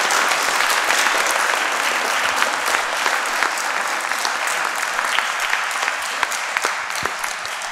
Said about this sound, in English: So if we could just round of applause for those folks.